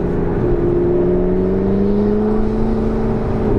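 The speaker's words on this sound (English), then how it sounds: "The turbo is just whirring up." Turbo whir from a McLaren 650S Spider as it accelerates, a steady rising engine drone with a tonal whine climbing gradually under continuous road and cabin noise.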